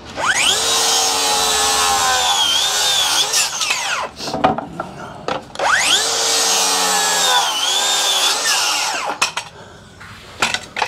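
A DeWalt 60V circular saw rips along a board in two loud, close passes. Its high whine drops in pitch as the blade bogs down under load, with brief spin-down gaps and knocks between the cuts.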